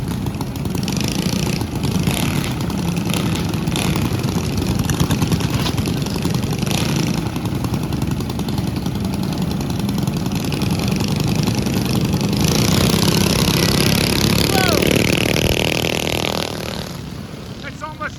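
Mini bike engines racing at a 2025 event in Symco, Wisconsin, a loud, buzzing, revving drone that holds steady and then rises in pitch before fading, with people talking over it.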